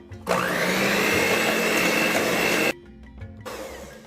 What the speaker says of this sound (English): on low speed mix it all together